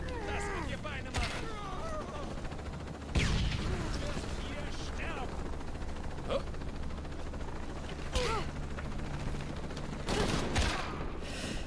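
Gunfire in the video game Shadow of the Tomb Raider comes as several sharp shots and short bursts over a constant ambient rumble and mechanical creaks, with voices heard at times.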